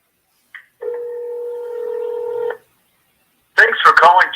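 A phone call being dialed from a played recording: a short beep, then a steady two-tone dial or ring tone lasting about two seconds, followed after a pause by the start of a voice.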